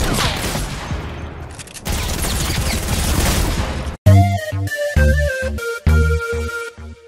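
Heavy shotgun blasts in Fortnite gameplay, first a dense noisy stretch of combat, then several loud separate booming shots with short gaps between them.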